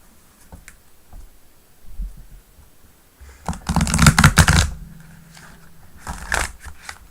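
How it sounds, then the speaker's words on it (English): Tarot cards riffle-shuffled up close: a rapid fluttering burst of card flicks, then a second shorter riffle after a pause, with small handling clicks between. "Ooh, nice shuffle."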